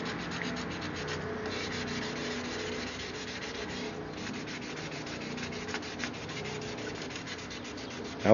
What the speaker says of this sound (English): Just sanding off some of the yellow stuff that gets on there.